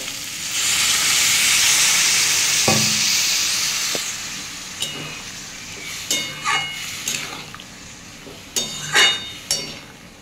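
Water poured into frying banana blossom sets off a loud burst of hissing steam and sizzling lasting several seconds, which then fades into scattered metallic clinks and scrapes of stirring in the pan.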